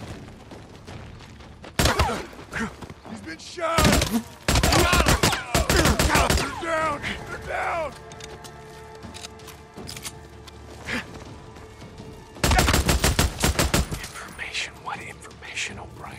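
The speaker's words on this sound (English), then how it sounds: "Damn it, sniper ambush." Sniper gunfire in the video game Days Gone during an ambush: loud, sharp shots and dense bursts of fire arrive in clusters, with quieter stretches of game sound and voices between.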